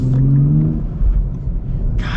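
A 2025 Nissan Z with a manual gearbox blips its engine in a close rev-matched downshift, a brief rising growl that quickly settles into a low, steady idle-like rumble.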